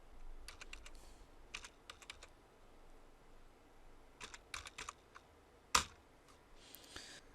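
Keystrokes on a computer keyboard while a date is entered into an MS Excel spreadsheet, heard in short scattered bursts of quick taps with pauses between, and one sharper, louder key strike near the end.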